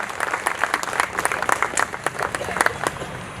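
An audience claps firmly to welcome guests from various talukas at a Patel community association gathering in Surat, a dense run of overlapping hand claps under a murmur of voices.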